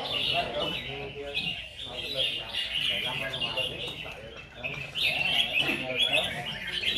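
Red-whiskered bulbuls sing at a bird-singing competition in Bình Dương, bright warbling chirps repeating through the clip, mixed with crowd chatter and voices nearby.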